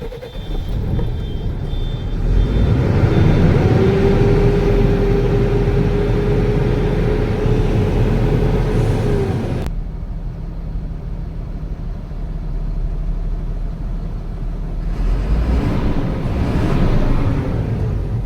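Tata Signa BS6 truck diesel engine cranking and settling into a loud, steady idle, with a sharp drop in level partway through followed by the engine running on and picking up again.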